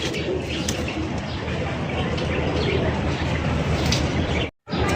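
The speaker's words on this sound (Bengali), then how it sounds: "এখানে হচ্ছে দুই জাতের কবুতর আপনারা দেখতেই পাচ্ছেন" Lahori and Beauty pigeons at a pigeon sale, cooing in soft repeated calls with scattered chirps over dense, steady background bustle and murmur, ending with a brief sudden silence.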